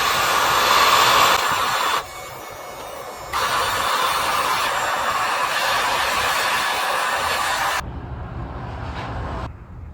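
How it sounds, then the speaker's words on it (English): A heat gun blows hot air onto a part of a 1970 big-block Camaro, a loud steady rushing roar that drops in level, picks back up, then fades in the last seconds. "I'm gonna try to heat this up with the heat gun."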